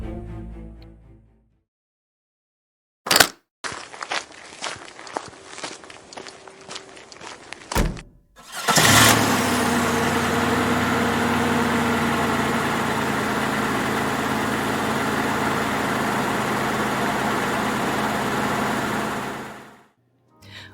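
A car starts after a few thunks and shuffling sounds, then its engine settles into a steady, close idle hum for about ten seconds before cutting off abruptly.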